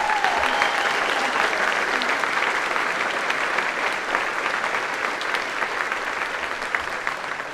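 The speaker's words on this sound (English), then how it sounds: "Let's give Gary a round of applause." A university general assembly audience gives a dean a round of applause, a broad, continuous crowd clapping that stays strong and even throughout, easing off only a little near the end.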